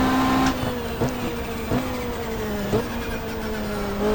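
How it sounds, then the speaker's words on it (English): A BMW M3 touring car in the GTR2 racing game runs flat out down the straight at Calder Park, a loud continuous engine drone with brief dips as it shifts gears. "Mark Seymour in the BMW M3. Comes down to the end of the straight."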